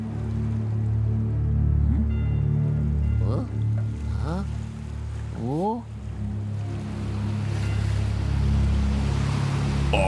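Pirate ship arriving over water in the video game Luigi's Mansion 3, a deep rumbling drone with sloshing water and several rising creaks or horn-like sweeps, loud and continuous.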